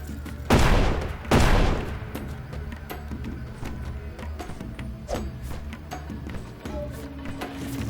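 Two loud, close gunshot blasts crack out in quick succession during Deadly Premonition 2, followed by a low rumbling game ambience with scattered faint clicks and thuds.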